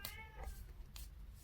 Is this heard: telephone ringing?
no